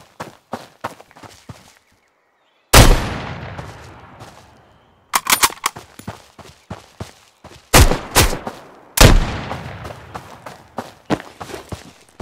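Pistol shots ring out in Road to Vostok, several sharp, loud cracks spaced a couple of seconds apart, each trailing a short echo, with quieter footsteps and clicks between them.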